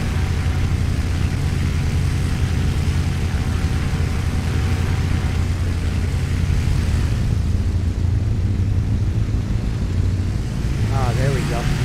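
Steady, loud drone of a WWII fighter plane's piston engine running in the flight sim IL-2 Cliffs of Dover, constant throughout with a voice talking over it near the end.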